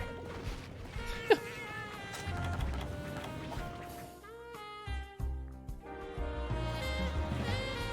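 Cats meowing inside the Monster Hunter Portable 3rd video game, a few drawn-out cries over steady game music, clear and close.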